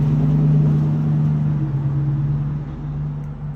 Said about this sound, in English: That's very typical, a suburban vehicle and a garden implement.